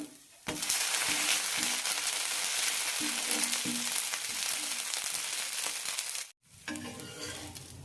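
Chama rice dosa sizzling steadily on a hot pan after being flipped, a loud dense hiss with a few soft scraping knocks, a brief gap, then the frying resumes.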